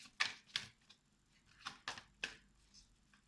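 A tarot-style card drawn and flipped from a deck during a reading, heard as a few crisp papery snaps and slides spaced across a couple of seconds, close and fairly quiet with no talk.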